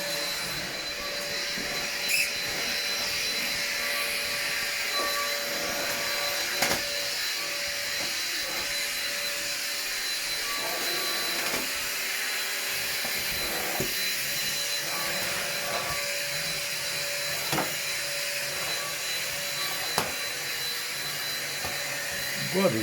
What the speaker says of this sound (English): This vacuum cleaner that I bought here, you can see it from Aldi.